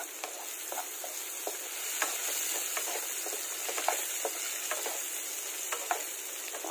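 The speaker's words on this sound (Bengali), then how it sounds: "এটা দিয়ে আমি আলুটা আগে ফ্রাই করে তুলে নেব" Potatoes with salt and turmeric sizzle steadily in hot oil in a pan, a close crackling hiss dotted with small pops and occasional stirring clicks, with no talking.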